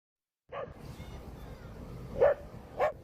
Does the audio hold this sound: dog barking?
yes